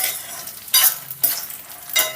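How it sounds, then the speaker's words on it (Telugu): Dried red chillies frying in a pan for chutney: a soft, close sizzle under three brief, louder scraping stir strokes, with no voices. "ఇప్పుడు దీన్ని కూడా ఒక 30 సెకండ్స్ పాటు ఫ్రై చేసుకుందాం"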